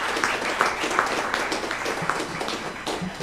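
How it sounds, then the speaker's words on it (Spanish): Audience applause welcoming a speaker at an evening debate event, a steady wash of many hands clapping throughout, fairly close and continuous with no distinct voices. "Lo recibimos con un caluroso aplauso."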